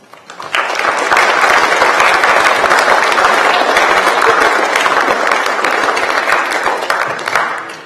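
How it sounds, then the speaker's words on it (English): Audience applause at an 8th grade academic awards ceremony, a sustained round of clapping from a large crowd that starts quickly and holds steady for several seconds, close and loud. "I think we owe you a round of applause as well."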